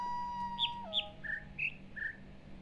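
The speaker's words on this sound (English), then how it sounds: "that is the same bird trill as this one" An ambient bird trill from The Witness video game: a soft whistled note sliding down, followed by five clear chirps in an uneven sequence, fairly faint over a low background hum, with no one speaking.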